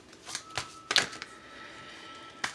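Tarot cards being shuffled by hand, with a few short, quiet riffling and tapping bursts spread irregularly across the clip, close by and faint, with no talk.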